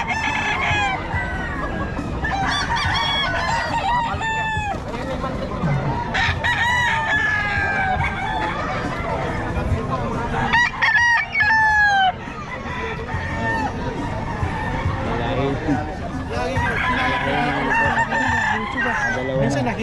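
Boston-breed roosters crow repeatedly at a farm, with several loud nearby calls overlapping amid clucking fowl and general barnyard noise throughout.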